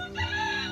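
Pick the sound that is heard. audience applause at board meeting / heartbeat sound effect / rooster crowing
rooster crowing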